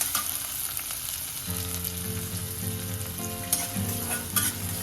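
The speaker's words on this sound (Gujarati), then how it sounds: "ત્યાર પછી હવે આપણે ઓનિયન એડ કરીશું અને હવે ઓનિયનને આપણે થોડો ગોલ્ડન જેવો થવા દઈશું." Onions sautéing in a pan with oil after mustard seeds have popped, a steady close sizzle throughout with occasional stirring scrapes and no talk.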